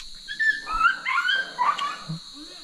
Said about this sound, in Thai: สุนัข